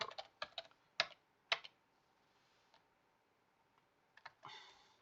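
Several sharp keystrokes on a computer keyboard come in short bursts with pauses between them, close and quiet, followed by a brief run of typing near the end.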